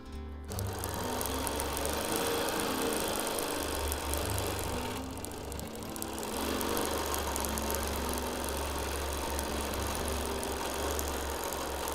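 A sewing machine runs steadily for free-motion quilting, a close, continuous mechanical hum and rapid needle chatter that dips briefly before resuming at the same pace.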